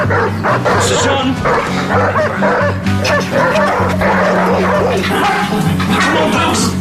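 Several dogs bark and yip excitedly in a close, busy cluster, with whimpers mixed in and a voice calling over them.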